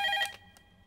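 A telephone bell ringing in a brief burst at the start, then cut off into near silence; bright and close, with no talk over it.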